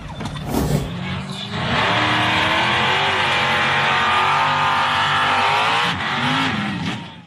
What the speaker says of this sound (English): The lifted white pickup truck blasted across the red dirt track at high speed before slamming head-on into a dirt embankment.